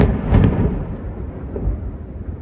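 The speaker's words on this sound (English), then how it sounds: "Footage of the strikes and explosions is being posted online." A military strike explosion booms once as a heavy, deep blast. Its rumble fades away over the next couple of seconds, and no one speaks.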